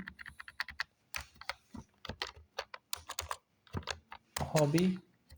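HTML code typed on a computer keyboard: quick, irregular bursts of clicking keys, close and clear, ending in a denser clatter of keystrokes.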